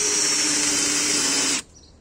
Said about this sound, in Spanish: Le voy a bajar la velocidad para que vaya más suave, porque con esta broca va muy rápido.